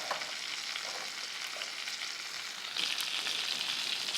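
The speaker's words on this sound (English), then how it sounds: "we're going to add 2 chunks of butter and some garlic" Garlic sizzling in butter in a pan as a steak cooks, a steady bright crackle with brief stirring rustles and a louder burst of hiss near the end, no voices.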